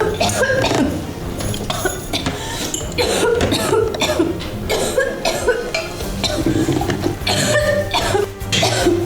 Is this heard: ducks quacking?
no